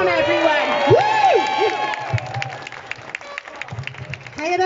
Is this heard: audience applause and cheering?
yes